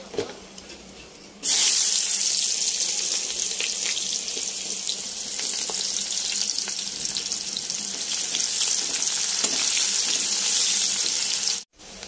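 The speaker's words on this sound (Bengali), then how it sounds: "প্রথমে পেঁয়াজটা দিয়ে ভালো করে ভেজে নেব।" Chopped onion hits a hot pan at once and bursts into a loud, steady sizzle that keeps frying evenly, with a sharp clunk near the end and no talking.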